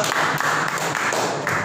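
Audience applause at a sales presentation, a short burst of clapping from a group of people in a room, steady and fairly loud with slightly rhythmic pulses, no one speaking.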